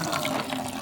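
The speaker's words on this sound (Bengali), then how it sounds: "বালতিটার মধ্যে জল ভরে" Tap water pours steadily into a bucket at home, a continuous close splashing rush with no pauses over a short stretch.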